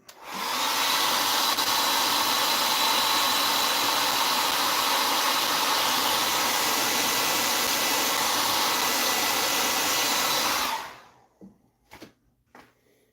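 A hair dryer blows steadily and loudly on weathering paint on a model steam locomotive, a dense continuous whoosh running about ten seconds before cutting off, followed by a few faint knocks.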